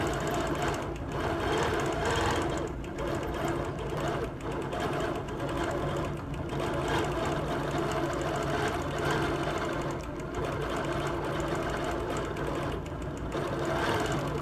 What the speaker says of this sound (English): when I go in and out of a corner, even if I haven't moved that full stitch regulated distance, it's still going to take a stitch